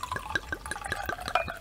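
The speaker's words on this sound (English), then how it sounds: "let's try this again, shall we? Alrighty, so just going to pour this in here." Cabernet Sauvignon wine poured from a bottle into a glass, a quick glugging stream of liquid with rhythmic bubbly pulses, close and fairly quiet.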